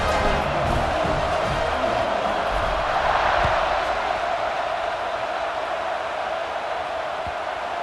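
Stadium crowd in EA Sports College Football 26 roars steadily, a dense, even wash of cheering that holds for the whole stretch without letting up.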